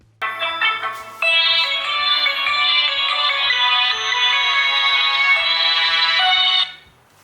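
Phone ringtone for an incoming call on a smartphone, a bright melodic tone playing loudly and continuously for several seconds after a brief start, then cutting off.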